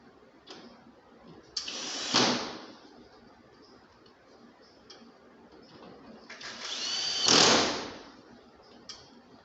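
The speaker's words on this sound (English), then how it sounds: "With the tightener it is too easy to fix the screws" A power screw tightener fixes screws on a split AC unit during servicing, with two short whirring bursts a few seconds apart and faint ticks and handling noises between them, close by, with no talk.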